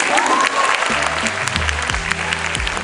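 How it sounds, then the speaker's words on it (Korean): Concert audience applause fills the room, dense clapping that carries on as low music-like tones come in underneath partway through. "그래 박수를 쳐주세요"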